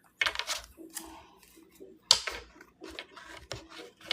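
A deck of tarot cards shuffled by hand, with several quick papery bursts and clicks separated by short pauses, close and fairly quiet.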